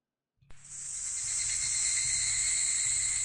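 Cicadas buzzing in the visual novel Grisaia no Kajitsu, a sudden onset of shrill, steady droning that swells and holds loud and unbroken.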